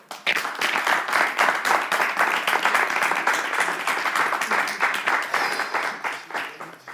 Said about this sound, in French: un Assia-Kolé ne peut s'exprimer devant un public sans recevoir des applaudissements en retour